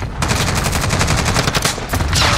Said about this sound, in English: Oh, they shooting at the bio.